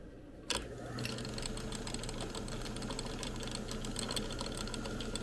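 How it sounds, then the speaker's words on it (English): An old Craftsman lathe fitted with an electronic leadscrew kit switches on and runs with a steady mechanical hum and rapid ticking rattle, close and continuous with no talking. "So if we turn on the lathe,"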